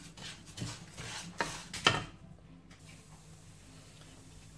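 Rice toasting in olive oil in a pan gives a soft frying hiss with a few scraping stirs near the start, then settles to a quiet sizzle.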